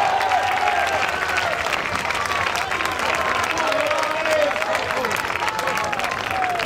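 Crowd applause after an amateur boxing bout between Valerio Ranaldi and Roberto Cirelli, steady dense clapping throughout with scattered cheers and voices mixed in.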